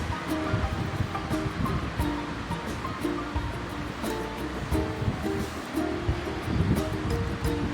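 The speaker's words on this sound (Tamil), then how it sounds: "வெங்காயம் நல்லா வதங்கட்டும் வெங்காயம் நல்லா வதங்கணும்" Onions sautéing in a pan, a continuous close sizzle and crackle with faint clinks throughout.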